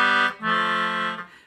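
A melodica plays two short harmonized chords in thirds, the second held longer before trailing off.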